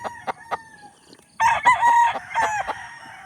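A Maclin rooster lets out one loud, drawn-out crow close by, preceded by a few short clucks and calls from nearby chickens.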